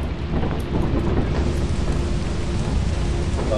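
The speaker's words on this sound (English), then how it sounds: "Fuck, it's raining." Heavy rain pours steadily with a low rolling thunder rumble underneath in the Lethal Company video game, loud and continuous, with no voices.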